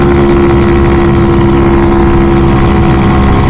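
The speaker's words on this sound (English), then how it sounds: "It sounds like the engine is fairly healthy" A small engine in a Grom-clone motorcycle swapped with an SSR 110 motor runs steadily at close range, a loud, even droning rumble with a constant pitch and no voices.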